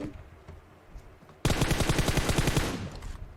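Gunfire in the mobile game PUBG Mobile on the Erangel map: after a quiet stretch, a sudden loud burst of rapid automatic shots rattles for about two seconds, then fades out, with no speech.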